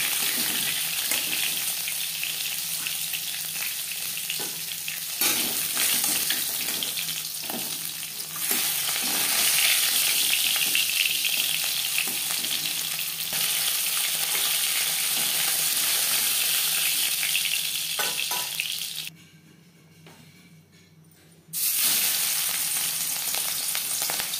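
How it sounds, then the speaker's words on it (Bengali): A katla fish head fries in a pan with a loud, continuous sizzle and crackle, close up, interrupted once by a brief quieter pause before the frying noise returns. "মাছের মাথা ভাজা হয়ে গেছে।"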